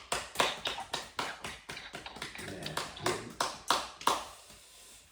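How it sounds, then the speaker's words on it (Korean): A church congregation at an early-morning service claps in a steady, rhythmic beat of roughly a dozen sharp, moderately close claps, with a brief spoken word partway through. "영광의 박수 한번 돌려드리십시다"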